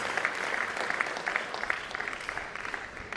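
Applause from the crowd at a World Mental Health Day gathering, a moderately loud, even stream of clapping that holds steady for about three seconds.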